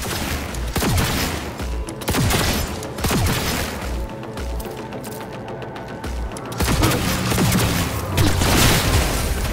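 Rapid gunfire bursts in the Cyberpunk 2077 game, loud and close, with repeated volleys and booming shots spread across the whole stretch amid mechanical clatter.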